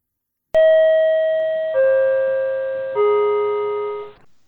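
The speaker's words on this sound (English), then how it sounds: "Subway chime." Subway chime of three descending bell-like tones, each struck note ringing and slowly fading, loud and close with no talk over it.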